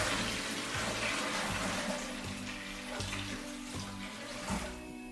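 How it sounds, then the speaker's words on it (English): Hot tap water pours steadily into a brew kettle for a Belgian wit beer, a continuous rushing splash with a faint rhythmic pulsing underneath and no talking. "I've got some hot tap water here that we will be adding here for this recipe"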